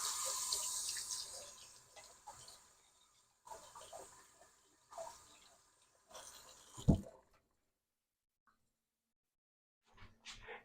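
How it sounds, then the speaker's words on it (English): Tap water runs and splashes over hands at a kitchen sink while biscuits are being made, a steady rush at first, then breaking into short bursts of splashing with a sharp knock near the end and quiet gaps. "Get this water off my hands."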